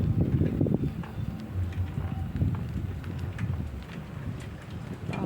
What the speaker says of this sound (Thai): มีลมโชย ลมโชย